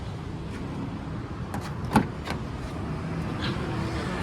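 A 2003 Nissan X-Trail T30 car door opens with a few light clicks and one sharper latch clunk in the middle, set against a low, steady background rumble.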